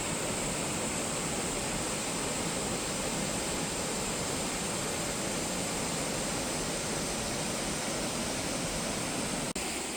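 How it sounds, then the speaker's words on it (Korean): Steady broadband rush of a mountain valley stream flowing through a shaded forest gorge at Daewonsa on Jirisan, loud and continuous with no voices. "그늘진 숲속을 계곡 물소리 들으며 천천히 걸어갑니다"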